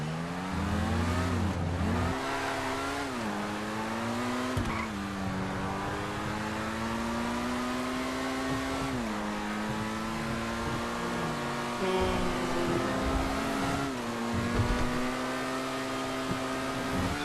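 Annis S80 RR race car engine from GTA Online, revving loudly and steadily with repeated gear shifts dipping and climbing in pitch, close and continuous for the whole stretch.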